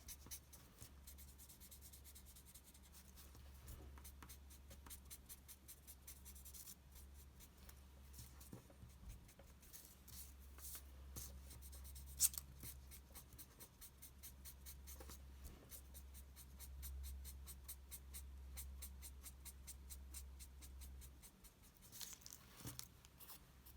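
A grey pencil scratches steadily across paper as it is coloured in, making a continuous soft rubbing stroke sound for the whole stretch over a low background hum.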